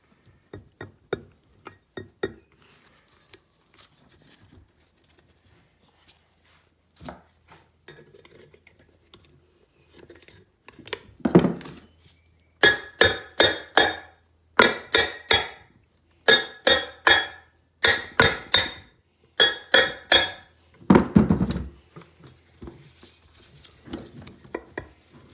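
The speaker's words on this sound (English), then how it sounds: "I flipped it over and just give it a few taps on these ears here" Metal tapping on the ears of a 2004 Honda Foreman ES ATV differential housing, sparse clinks at first, then a run of loud evenly spaced ringing strikes, close and with no speech.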